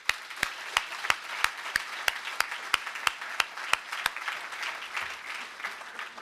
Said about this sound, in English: Let's give them a round of applause for our sponsorship of the Minnesota Agricultural